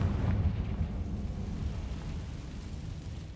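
A Confringo fire spell blasts in Hogwarts Legacy, a loud, deep rumbling explosion that rolls on steadily for several seconds, heavy in the low end, with no voice over it.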